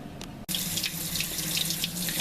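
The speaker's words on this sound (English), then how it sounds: "I'm putting some cold water on here just so I can touch it" Cold tap water gushes steadily into a pot of hot, strained eggplant during canning, starting abruptly after a short pause and staying loud and close with a constant splashing rush.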